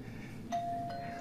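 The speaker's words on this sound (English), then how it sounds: "The doorbell rings." A two-tone doorbell chime rings in the video game World End Syndrome, faint and clean, with a first ding followed by a second tone that rings on briefly over quiet background.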